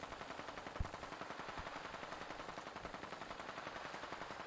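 Rapid automatic gunfire from a weapon in the video game Fallout 4, a steady stream of evenly spaced shots with a few louder cracks, heard alone without speech.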